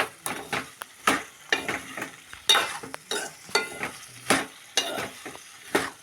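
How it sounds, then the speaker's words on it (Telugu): Partly fried okra being stirred in a pan, rhythmic scraping and clinking strokes roughly every half second over a low sizzle, close and without speech. "ఇప్పుడు బెండకాయలు కొంచెం వేగిన బెండకాయలు కాబట్టి త్వరగా అవుతాయి ఫ్రెండ్స్"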